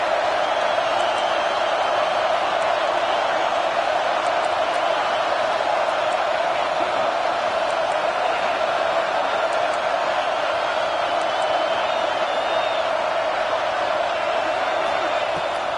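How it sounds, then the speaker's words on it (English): A stadium crowd roars steadily in an American football video game during a third-down defensive stand, a dense, continuous wash of cheering held at an even level throughout. "Decibels rising as the crowd gets behind this defense on third down."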